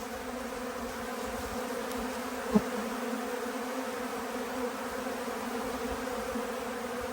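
Agitated honey bee swarm buzzing steadily in warm air at an apiary, a dense continuous drone close to the microphone with one brief sharp knock midway.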